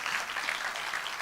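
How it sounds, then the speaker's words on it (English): An audience at a school gathering applauds teachers past and present. The clapping is brief, even and moderately loud, with no voices over it. "can I have a round of applause for all the teachers past and present"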